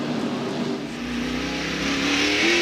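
NASCAR stock cars, including Martin's Valvoline Ford, rev hard as they pull away off pit road, a loud, continuous rising engine roar close by.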